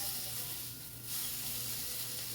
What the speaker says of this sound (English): Just let your steak go. I can start to see that it's browning. So I'm going to give it a nice little flip over to the other side.